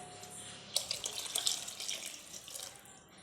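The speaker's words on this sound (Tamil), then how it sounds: "இப்போ வந்து தண்ணி ஊற்றிக்கலாம், கொஞ்சமாக ஊற்றிக்கிறேன்." Water poured from a tap into a vessel of rice for mushroom biryani, a soft splashing stream that starts abruptly and runs steadily, fairly quiet, with no talk.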